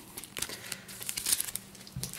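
Animal cards from the Noah's Ark board game being shuffled by hand, a run of close, papery riffling and crinkling bursts with no voices.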